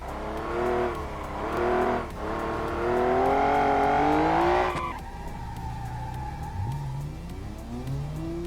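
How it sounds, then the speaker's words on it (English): A V12 engine in the video game Automation revs high, climbing steadily in pitch for several seconds, then drops off sharply and settles into a lower, uneven rumble, with a synthetic quality. "It's still a shame that the V12 sounds from Automation are a little questionable."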